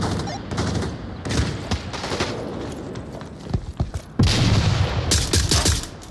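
Gunfire in the VR shooter game Onward VR, bursts of rapid automatic shots and sharp single cracks coming in clusters, loud and close.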